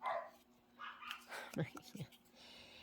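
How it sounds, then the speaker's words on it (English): Dogs bark and yip in short bursts in the background, mixed with muffled voices and room noise. "they just have been barking for like the past 10 minutes"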